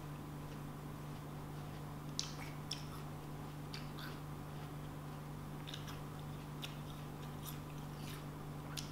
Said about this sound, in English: like a less apple crunch, more watery crunch, and it gets spongier in the middle